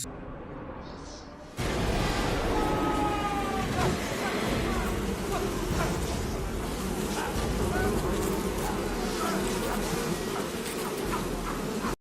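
A dense swarm of flies buzzes loudly and continuously after a sudden onset, a close, steady droning hum filling the space.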